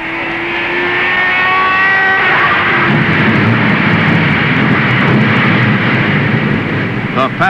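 Loud roaring engines of 33 race cars at the 1960 Indianapolis 500 rise and drone together as they roll away from the starting line, with a steady dense mechanical roar and a voice talking over it.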